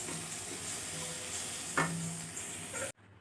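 Mint and curry leaves sauté in a pan, making a close, steady sizzle with a brief stirring scrape near the end before the sound cuts off abruptly.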